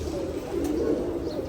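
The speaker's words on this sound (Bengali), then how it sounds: "এই পেয়ারটার সাথে আরও কিছু কবুতর যাবে" Several pigeons coo in low, soft murmurs close by, a steady continuous burbling with no talk over it.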